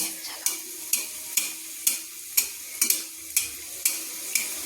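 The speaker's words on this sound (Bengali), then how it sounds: "খুন্তি দিয়ে বা একটা চামচ দিয়ে কিন্তু তেলটা এইভাবে ছিটকে ছিটকে দিতে হবে" Pea-filled kachori fry in a wok of hot oil while a spatula splashes oil over them in about ten regular strokes, each a sharp sizzling spurt over a quieter steady crackle.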